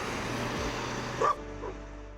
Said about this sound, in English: On our way back we are accompanied by a local dog who protects us from all the dangers.